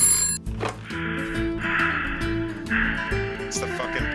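A telephone rings in repeated electronic bursts, fairly close, with pauses between rings and some background murmur.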